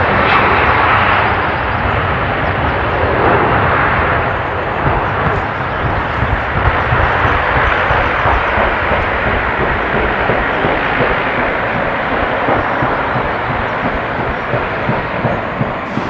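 An Airbus A330 with an engine failure takes off from Manchester, its jet engines making a loud, continuous broadband roar with a rushing wind-like texture that holds steady for the whole stretch.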